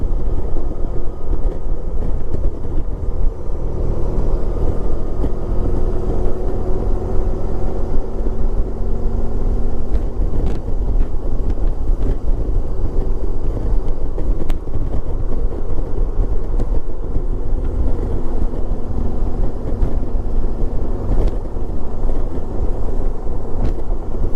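A 1994 Honda ST1100 motorcycle rides along a road, a loud steady engine and wind rumble filling the whole stretch with faint clicks and knocks above it, no talking.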